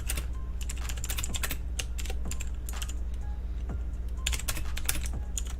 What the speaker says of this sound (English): You hear my new keyboard clicking clacking?